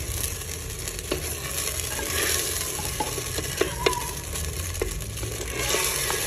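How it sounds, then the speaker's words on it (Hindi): Sugar for Mokhandi halwa stirred and melting in a pan with a spoon, a loud constant sizzling crackle with scattered scraping clicks of the spoon, close and uninterrupted, no voices. "अब चम्मच की मदद से मिक्स करना है"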